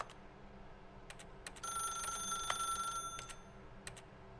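In the video game The Stanley Parable, a telephone rings in a bright, buzzy electronic trill lasting about a second and a half, set among faint, scattered ticking clicks and quiet background hum.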